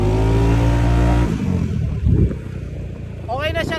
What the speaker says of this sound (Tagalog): Tetesting muna natin tong X-Max. Ayan, nabuhay na yung RPM niya.